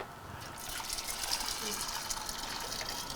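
A hot drink is poured into thermoses, a steady gushing flow of liquid that begins after a brief lead-in and runs continuously to the end.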